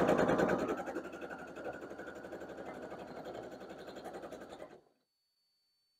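A sewing machine stitches quilt block pieces for a barn star block in a steady, close, continuous mechanical run that stops abruptly near the end, with no talking.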